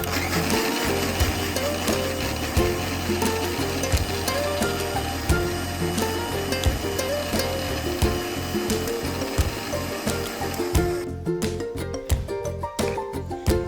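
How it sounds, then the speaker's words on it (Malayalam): A mixer jar grinds grapes, sugar and cold water for grape juice with a steady, close mechanical whirring and rattling drone, which shifts into choppier pulsing near the end; no voices. "ഇത്രയും ചേർത്തതിന് ശേഷം നമുക്കിത് അടച്ച് വെച്ചിട്ട് ഒന്ന് അടിച്ചെടുക്കാം"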